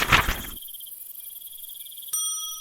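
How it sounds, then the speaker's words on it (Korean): A cricket chirps in a quick rhythmic trill, beginning loud and busy, then thinning to a faint steady high buzz with a brief brighter burst near the end. "귀뚜라미"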